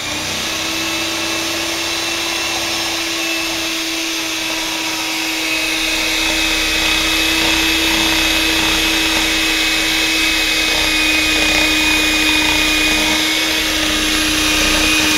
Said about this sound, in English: So we're going to put our mixers inside our ingredients before we turn it on,